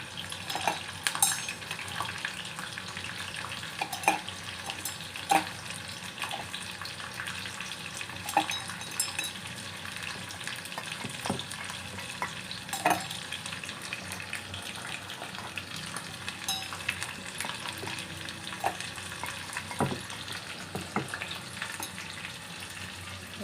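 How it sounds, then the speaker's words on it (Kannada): About ten green chillies fry in oil in a pan for tomato chutney, a constant crackling sizzle punctuated by sharp utensil clicks and scrapes, close and unaccompanied by speech. "ಇದು ಫ್ರೈ ಆಗ್ತಾ ಇರುತ್ತೆ ಈ ಕಡೆ ಎಣ್ಣೆ ಹಾಕ್ಬಿಟ್ಟು"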